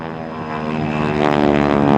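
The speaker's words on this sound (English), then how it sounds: "Give us a little demonstration on what this airplane can do." AT-6 propeller airplane flying at an air show, a loud, steady buzzing engine drone with rich harmonics that grows gradually louder as the aircraft approaches, with no voices.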